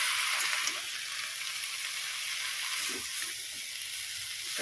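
Steady, loud hiss and sizzle of a hot pan as water is added to red lentils (masoor dal) and bottle gourd stems, a bright crackling wash that holds throughout with a few soft bumps underneath.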